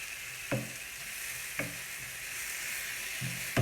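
Courgette and onions frying in a pan give a steady, fairly loud sizzle, broken by occasional soft knocks of stirring every second or so; no talking.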